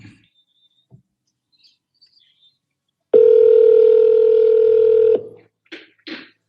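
A phone call placed to a for-sale-by-owner home seller: a loud, steady telephone tone holds for about two seconds, followed by short electronic beeps, with faint clicks before it.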